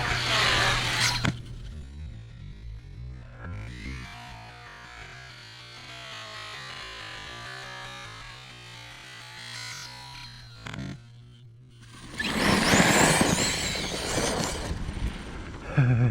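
An ARRMA Kraton XL RC basher car runs at full throttle, with a sustained whining motor and drivetrain roar that rises and falls, then a loud gravelly rush of tires near the end, with no talk.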